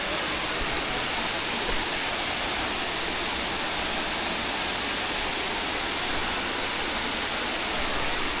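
Roháč waterfall in the Tatra mountains after rain, a steady close rush of falling water with a broad hiss that stays even and unbroken throughout, no voices.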